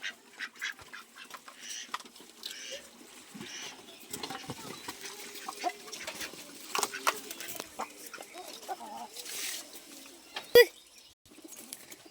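Chickens in a backyard coop at evening, giving faint, scattered clucks and soft bird calls over a quiet background, with occasional small rustles and one sharp click.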